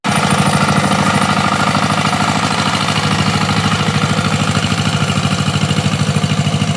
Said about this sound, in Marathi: आता डायरेक्ट ट्रॅक्टर, पॉवर ट्रॅक्टर.